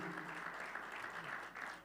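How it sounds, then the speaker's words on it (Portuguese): Congregation applauding the Lord during a sermon, a brief, fairly soft and steady patter of many hands clapping. "Pode aplaudir o Senhor?"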